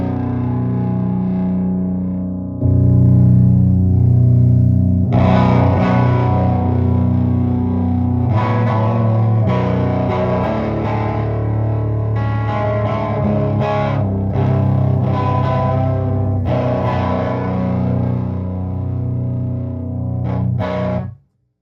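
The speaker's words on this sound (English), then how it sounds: "I'm going to change the switch on the back, the negative feedback switch, to go from soft to grit now" Barton High Voltage Paladin 200 guitar amp with its negative feedback switch on grit, playing a loud, distorted guitar passage: a sustained chord opens, then busier chugging riffs and chords run steadily to an abrupt stop.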